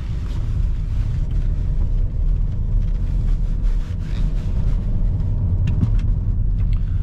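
A BMW X5 E70 3.0 SD diesel driven hard on a twisty road on winter tires gives a continuous low engine rumble mixed with road and wind noise inside the cabin, with no talking.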